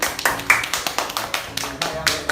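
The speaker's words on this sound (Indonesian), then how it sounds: "Tepuk tangan dulu buat Pipian." A classroom of students gives a round of applause for a classmate. The clapping is steady and rhythmic, with uneven bursts of about a dozen sharp claps from a small group nearby.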